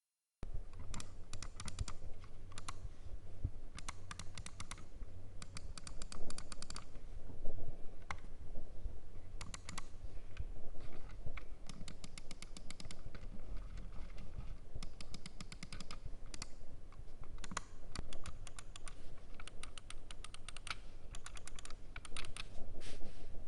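A Rakk Talan wireless gaming mouse is clicked over and over in a sound test, producing dense rapid clicking in fast bursts with brief pauses, steady and close, with no talk.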